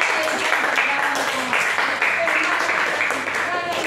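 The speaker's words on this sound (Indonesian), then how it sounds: "Tepuk tangan untuk kelompoknya." A classroom group of students claps for a presenting group, a dense steady patter of hands lasting a few seconds, close and fairly loud with voices mixed in.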